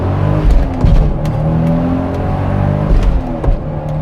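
A Toyota Supra Mk4 with a turbocharged 2JZ-GTE engine pulls hard in first gear, the loud, close engine note climbing steadily while a whir rises with it.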